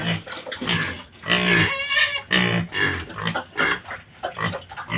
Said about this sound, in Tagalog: Doon sa kay Bornok na barako namin